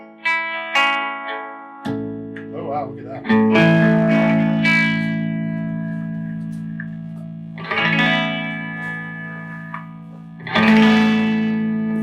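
Electric guitar, a replica 1954 Gibson Les Paul Goldtop, through a heavy, bass-rich amp with effects: sustained distorted chords and notes ringing out, with a brief exclamation over the playing.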